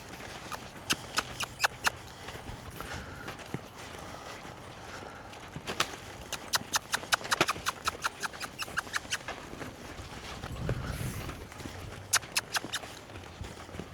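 Horse hooves at a lope in an arena, fairly faint rhythmic clip-clop thuds in bursts, clustering into quick groups over a quiet background.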